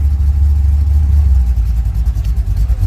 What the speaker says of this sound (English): Yeah, that's an LS motor.